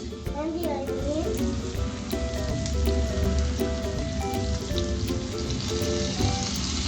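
Finely chopped garlic and onions fry in a hot pan for homemade butter chicken, giving a steady, loud, continuous sizzle throughout.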